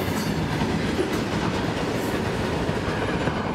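A train hauling a string of wagons rumbles past steadily, its wheels keeping up a continuous clickety-clack roar with no break for the whole stretch.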